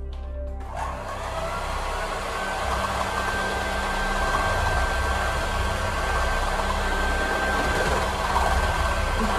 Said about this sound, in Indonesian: Kemudian kita yang kedua kita mengocok kuning telurnya.